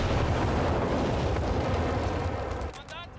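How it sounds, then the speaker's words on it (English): Whizbang rocket artillery explosions in Company of Heroes 3, a dense rumbling barrage of blasts that stays loud for over two seconds, then drops away into quieter whistling. "There is the whiz-bang."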